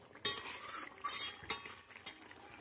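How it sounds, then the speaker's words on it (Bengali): Ridge gourd poppy seed curry is scraped from a cooking pot into a bowl, with a few distinct spoon-on-metal scrapes and clinks against faint background noise. "এবার ঢেলে নেব একটা পাত্রে।"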